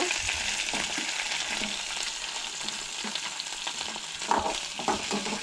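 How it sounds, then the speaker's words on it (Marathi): Onion frying in oil with garlic and curry leaves for a Goan black-eyed bean curry sizzles steadily and close by, broken by stirring scrapes and a few louder crackles, with no talk. "कांदो नाही हलकोसो तळसळून घेवंक जाय."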